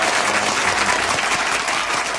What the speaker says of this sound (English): Give a big round of applause to all the winners